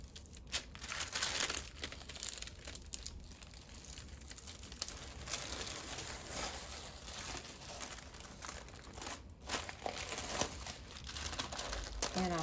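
Wax paper is peeled off the top of a homemade beeswax wrap, giving continuous crinkling and light tearing at close range that carries on for several seconds without a break.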